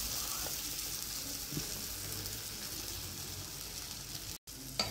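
Leftover idiyappam stirred into masala in a hot pan gives a soft, steady hiss and sizzle with only faint stirring, and the sound drops out briefly near the end.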